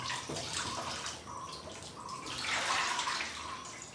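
Potatoes are rinsed under running tap water in a home kitchen, a soft, continuous splashing and trickling that swells slightly toward the end, with no talking.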